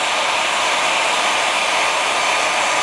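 A hair dryer blows steadily while styling hair into soft curls, a loud, even broadband whoosh with no break and no talking.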